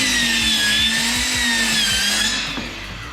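A power tool works tongue and groove pine boards for a tiny camper's interior walls, whining steadily with a rattling low pulse beneath, then winding down near the end.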